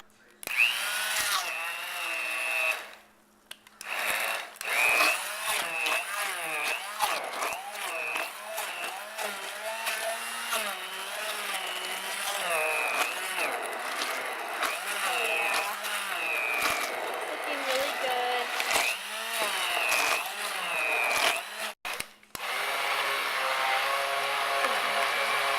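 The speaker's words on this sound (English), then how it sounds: "I'm gonna use an immersion blender." An immersion blender purees a creamy gazpacho in one batch, its motor whining steadily and loudly for about twenty seconds with a short pause near the start and a brief cut-out near the end.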